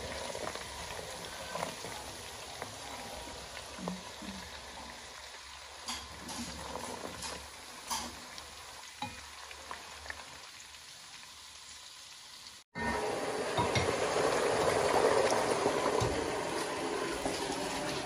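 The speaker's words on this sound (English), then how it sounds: "frying the tomatoes now." Soft crackling and sizzling from tomatoes frying in a pan, with scattered pops, growing louder and denser toward the end.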